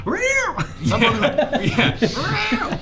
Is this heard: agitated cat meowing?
yes